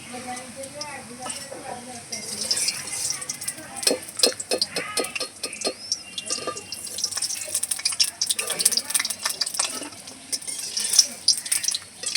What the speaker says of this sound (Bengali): ফুলগুলো ভালো করে ভাজা হয়ে গেছে এবার আমি নামিয়ে দেবো